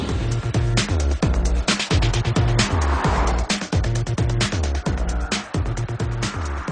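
Audi A6 sedan driven hard on a test track, with a steady engine drone and repeated tyre squeals and skids in quick succession, loud and close throughout with no talk.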